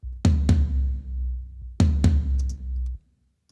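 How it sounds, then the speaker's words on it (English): An unprocessed rock tom drum, the third tom in a rock kit, is struck in two pairs of hits, each boomy hit ringing out with a low decay, dry and close, with no talk. "And this tom sounds like this without any processing."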